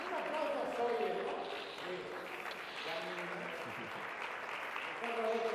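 A conference audience claps for speaker Ricardo Alejos at a business congress on cobots; the applause runs steadily while voices talk over it.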